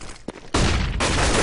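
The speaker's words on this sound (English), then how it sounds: "Kirby's going to come out with a hail of gunfire" Burst of gunfire in the video game Counter-Strike during a tense competitive match, a short crack then a loud, sustained volley of shots filling the rest of the moment, with no talk over it.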